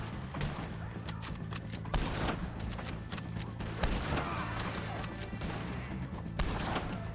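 Gunfire at O'Driscolls in Red Dead Redemption 2 rings out as scattered shots and sharp cracks over a constant busy game soundscape, some bursts louder than others, with a voice briefly speaking.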